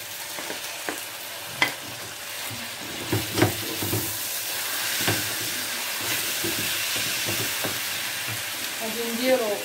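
Chicken pieces added to a pan of fried onions, giving a steady sizzle with scattered clicks and knocks of stirring over continuous frying hiss, near and moderately loud.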